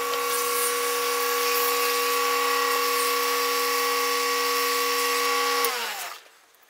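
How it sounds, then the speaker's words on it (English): A dowel rod mandrel spins on a wood lathe while it is sanded to size for a pen blank, giving a steady, loud motor whine with a sanding hiss that winds down near the end. "I'm going to sand on it until we can insert it"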